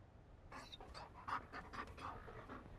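A puppy in the video game Dragon Age: Inquisition pants in quick, breathy bursts, about six or seven huffs in a row, quiet and close with no voices.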